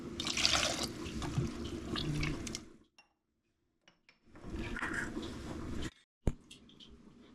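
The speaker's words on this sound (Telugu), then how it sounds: "వాటర్ వేస్తున్నా." Water pours into a cooking pot for tomato rasam in a home kitchen, a steady close splashing stream that stops, leaves a short quiet gap, then pours again before a brief sharp clink.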